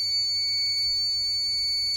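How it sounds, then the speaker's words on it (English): An electronic buzzer switched on by an ESP8266 relay board gives a steady, thin high-pitched tone that sounds faint and continuous for two seconds over a quiet hum. "LED on, buzzer on"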